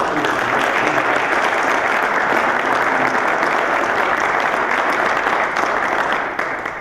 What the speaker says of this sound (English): I hope everybody can give him a round of applause